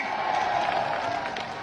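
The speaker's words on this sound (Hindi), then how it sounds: "ठोको ताली" A crowd at a political rally applauds and cheers in a short, steady burst of distant clapping mixed with crowd noise.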